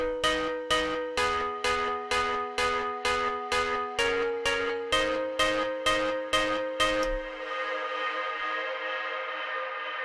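An EDM synth with a long sidechained reverb plays over a four-on-the-floor kick in a big room house style, sounding as a regular series of bright, pulsing stabs that stop, leaving a reverb tail to fade out alone.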